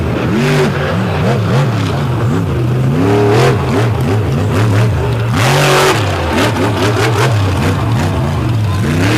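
A racing truck's engine revs hard and close at an off-road racing event at Lake Erie, rising and falling in repeated loud surges of acceleration with no talk over it.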